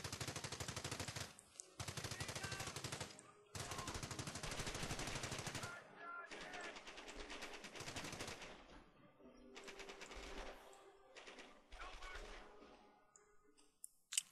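Machine gun fire in Company of Heroes on the Rails and Metal map rattles in repeated long bursts of rapid shots, separated by short gaps, with overlapping volleys as several guns fire together.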